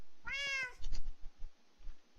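One short, bright meow from a kitten in the TPPI video game, then a few low, muffled thumps in an otherwise quiet scene.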